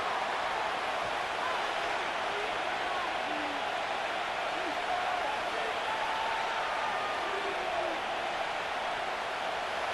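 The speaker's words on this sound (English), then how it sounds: "This crowd into it now as we get to 3rd down." Stadium crowd in the Madden 25 football video game, Texans versus Patriots, building before a third down: a steady, dense roar of many voices that holds at an even level for the whole stretch.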